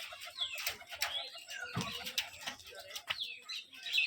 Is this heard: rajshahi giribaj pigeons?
yes